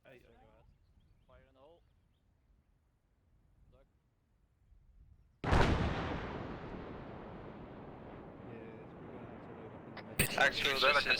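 A controlled explosion in a military video game goes off as one sudden loud blast after brief radio chatter, then a long rumbling decay, with another sharp bang near the end.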